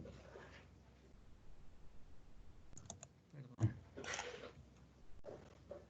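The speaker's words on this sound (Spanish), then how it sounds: "Aquí yo le digo clic derecho." Computer mouse clicks on a desk during spreadsheet work, a few short, faint taps with a sharper click near the middle, under quiet talk in a calm room.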